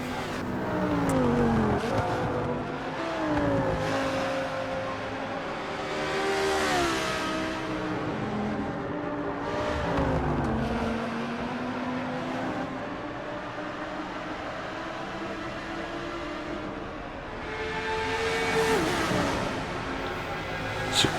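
Lamborghini Super Trofeo race cars in the video game Forza Motorsport 6 roar around the track, engines revving up and down through gear shifts with rising and falling pitch, several cars close together during contact and a swerve toward the barrier.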